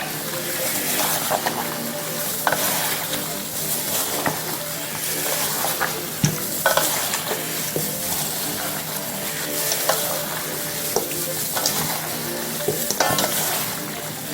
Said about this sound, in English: now I'm going to blend in all the seasoning.